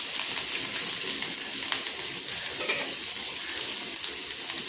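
Onions sizzling in hot oil already tempered with mustard seeds, urad dal and dried red chillies, a steady broadband hiss with faint crackles throughout, close and continuous with no talking.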